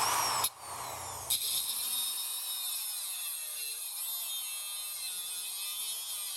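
A power tool cuts off part of a steel bit key for a Dutch furniture lock, giving a high, whirring grind with brief bursts at the start before settling into a steady, fairly quiet whine.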